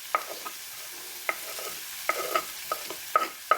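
Carrots being stir-fried in a pan for capsicum noodles: repeated scraping stir strokes and light clinks against a soft background sizzle, close and fairly quiet, with no talking.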